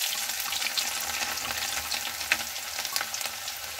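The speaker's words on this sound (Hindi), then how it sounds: "और इसके साथ मैं डालूंगी ये लहसुन जिसके मैंने टुकड़े काट रखे हैं।" Chopped garlic hits hot oil in a pan alongside whole spices such as black pepper, black cardamom and cumin, giving a steady close crackling sizzle with faint stirring, no voices.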